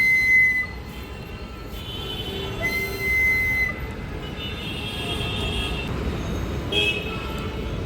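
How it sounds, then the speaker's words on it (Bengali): Whistle blown on an open rooftop: several faint, short high tones repeat at intervals over steady outdoor background noise. "বাঁশি বাজাচ্ছে"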